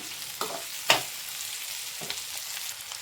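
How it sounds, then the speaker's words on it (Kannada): Fried okra is added to a pan of browned onions and sizzles faintly and steadily, with a couple of soft stirring scrapes near the start and again later. "ಸೊ ನಾವು ಈ ಟೈಮಲ್ಲಿ ಬೆಂಡೆಕಾಯಿ ಫ್ರೈ ಮಾಡ್ಕೊಂಡಿರೋದನ್ನ ಹಾಕ್ಕೊಳ್ಳೋಣ"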